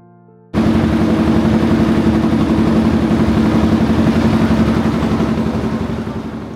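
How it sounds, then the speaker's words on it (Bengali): Boat engine of a resort ferry departing for Sobuj Dweep island near Kolkata, starting abruptly after a quiet moment and then running as a loud, steady, throbbing drone close by that eases slightly toward the end. "আমাদের নৌকো ছাড়লো 10:40 নাগাদ, আর তার সাথে শুরু হলো আলাদা একটা উত্তেজনা।"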